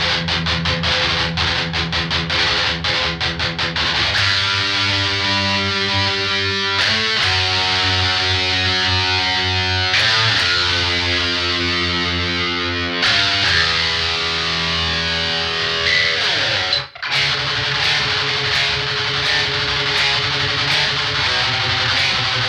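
Heavily distorted electric guitar chords ring out and change every few seconds, loud and sustained, with no talking.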